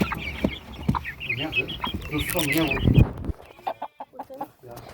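Chickens and chicks clucking and squawking close by in a busy flurry, with a louder cry near the end, then quieter scattered clucks and rustling.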